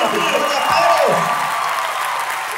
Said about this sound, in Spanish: Un aplauso a la Orquesta Sinfónica y a su directora, Victoria Pérez.